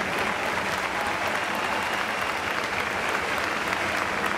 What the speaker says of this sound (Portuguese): uma salva de palmas para os nossos finalistas de salto